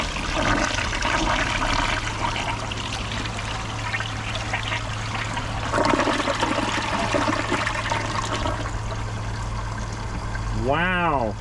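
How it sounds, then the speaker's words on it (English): A Kohler Highline Arc tall tank toilet, from 2025, flushes its full tank on a load of bags and paper towels: a loud, sustained rush of water runs for about ten seconds and ends with gurgling as the bowl drains. "We're going to use all of the water in the tank to see if it clogs or if it actually takes it."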